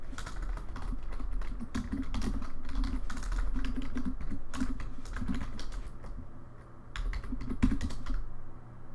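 Rapid, uneven keystrokes on a computer keyboard while writing C code, clattering steadily and close up for the whole stretch over a low room hum, with brief pauses between bursts.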